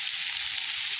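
Onions fry with salt and turmeric in a pan, giving a steady, even sizzle and hiss with no talking.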